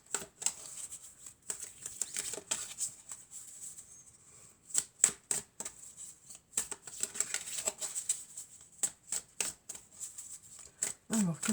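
Oracle cards being shuffled by hand, soft, close riffling and flicking in quick irregular bursts, faint and intermittent with short pauses.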